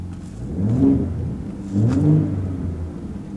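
2025 Ford F150 Raptor engine and exhaust in sport mode, giving two smooth rising revs about a second apart, a mid-pitched whirring rumble that swells and falls back, close and fairly loud.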